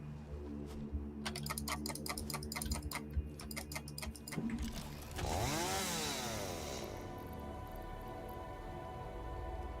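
A chainsaw in the video game Satisfactory revs up loudly midway through, after a stretch of rapid clicking like keyboard typing, then settles into a sustained engine drone.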